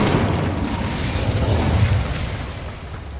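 Incendio fire spell in Hogwarts Legacy, a rumbling fiery burst that swells into a sustained roaring whoosh and slowly fades, loud and close.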